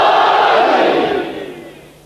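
Majlis audience at an imambargah shouting a slogan in unison, a loud massed crowd roar that swells at once and fades away over two seconds.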